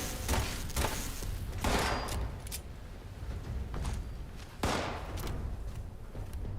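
Shotgun blasts in Fallout 76 go off in a few loud, sharp bursts spaced irregularly apart, each with a short rumbling tail.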